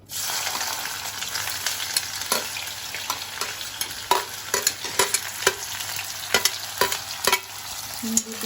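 Garlic, onion and chili dropped into hot refined oil crackle and sizzle loudly up close, with sharp spits and stirring clatter scattered through a continuous fry, and no voice.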